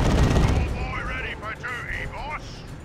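Plasma guns fire in Warhammer 40,000: Dawn of War 2 Elite Mod combat. A dense burst of blasts opens the clip, then warbling, zapping sci-fi shots ring out over continuous battle noise.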